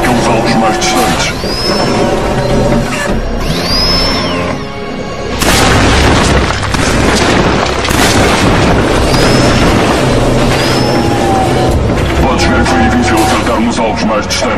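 Shotgun blasts at distant targets in the video game Killzone 3 boom out loudly, several heavy shots over ongoing game sound effects with some voice and chatter mixed in.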